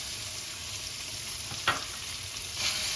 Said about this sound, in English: I'm going to saute these for about 3 minutes or so until they get kind of somewhat translucent here.